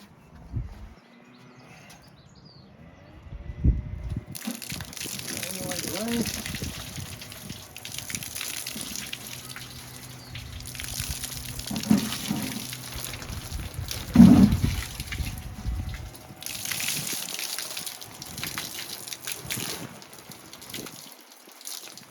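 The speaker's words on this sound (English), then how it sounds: "now we're going to pour some water over it and see how we do" Water poured over a TidyTent roof hood during a waterproof test, arriving in irregular gushes and splashes against the fabric over about twenty seconds, close and moderately loud with quiet gaps between pours.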